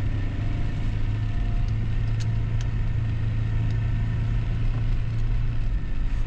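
A 4x4 in low-range third gear pushes through deep snow during a blizzard, its engine a steady, loud low drone that holds level throughout with no pause.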